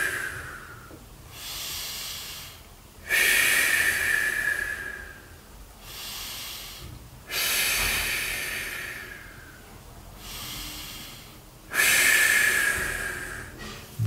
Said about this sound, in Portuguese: Inspira pelo nariz, ó, e solta o ar pela boca